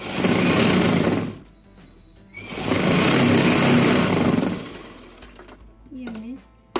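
A sewing machine stitching a blouse runs in two steady whirring bursts separated by a pause, then falls quiet apart from brief handling noises and a short vocal sound near the end.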